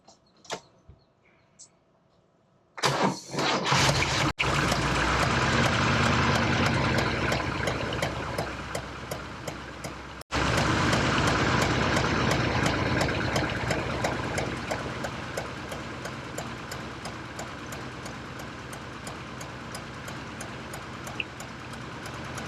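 A car engine being started in a garage after a repair with a shop rag and electrical tape, cranking, then catching with a loud roar that settles into a steady, slowly easing idle.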